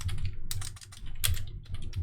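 Keys tapped on a computer keyboard in short bursts of close clicks separated by brief pauses, with nobody speaking.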